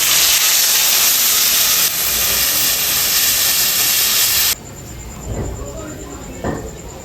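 Water poured into hot, frying spiced curry for a taro and small catfish dish, giving a loud, strong steam hiss that drops to a softer sizzle partway through, with a few clinks and bumps afterward.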